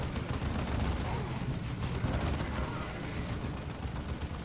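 Dense, continuous battle din of massed gunfire and artillery-like booms from Warhammer 40k Dawn of War II, a steady loud barrage with no clear gaps and no speech over it.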